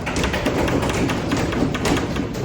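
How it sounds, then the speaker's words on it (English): Audience members bang on wooden furniture at a Boston Tea Party reenactment, producing a steady barrage of overlapping loud taps and thuds from a crowd, continuous throughout with no talking. "Or you may bang upon the furniture."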